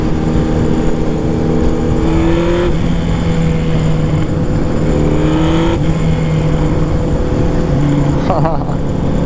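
A Kawasaki Z1000 motorcycle engine pulls hard on a test ride, its steady drone rising in pitch through several accelerating surges and gear changes, close and loud over constant wind rush.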